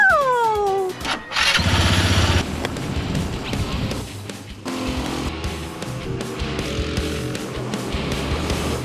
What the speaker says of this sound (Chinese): 刺激的引擎声响彻云霄